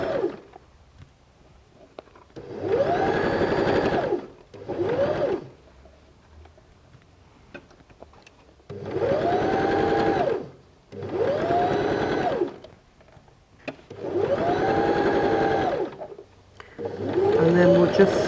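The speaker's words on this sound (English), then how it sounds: "just going to set my needle position right over to the left-hand side so that I get the stitching nice and close to that fold" A home sewing machine stitches the fabric of a doll's shorts close to a fold, running in several short, motor-driven bursts that speed up and slow down, separated by quiet pauses.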